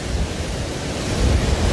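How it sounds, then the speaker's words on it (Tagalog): Strong storm wind roars steadily along the Lingayen coast in Pangasinan during a storm surge, a loud continuous rushing blast buffeting the microphone, mixed with low surf, with no voices. "Kung makikita nyo yung hangin na dala niya"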